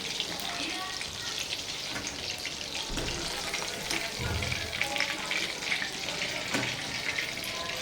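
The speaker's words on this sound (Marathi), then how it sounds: "छान फ्राय करून घेतलंय मी" Chicken pieces fry in a pan for chilli chicken, giving a soft, continuous sizzle with faint crackles and a few clinks and stirs.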